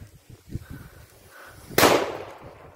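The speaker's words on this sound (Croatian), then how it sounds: "I za kraj ide petarda koja može raskomadati ovaj mobitel do kraja, a to je vražja." A powerful firecracker blasts under a Samsung Galaxy S10 phone outdoors, a single sharp, loud bang with a short rumbling tail after quieter rustling.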